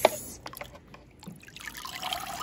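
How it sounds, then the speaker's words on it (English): Water trickles and drips out of a blue plastic Step2 Rain Showers Splash Pond water table, a faint, close liquid dribble with a few soft splashes. "and the water drips out"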